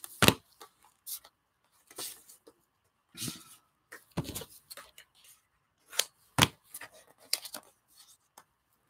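Scissors cutting a picture out of paper, heard as sparse, irregular crisp snips and rustles with quiet gaps between them, close to the microphone.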